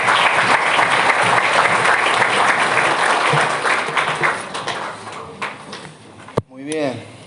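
Loud, sustained applause from a church congregation welcoming a guest speaker, fading over several seconds before a short burst of speech and voices near the end.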